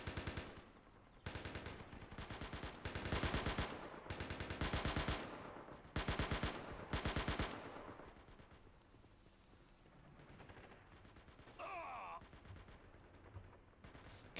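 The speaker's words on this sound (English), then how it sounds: "Oh, look at the amount of bullet impacts there. That's amazing. Just ripping up the dirt." Heavy gunfire in the Blue Dawn: Rise of Nationality video game mod, with bullets tearing into dirt: dense bursts of automatic fire and impacts, loud and repeated, easing into scattered quieter shots.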